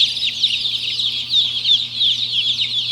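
Baby chicks from a hatchery, including breeds such as silver laced wyandotte, chirp together in a continuous, busy high-pitched chorus close by, with no voices.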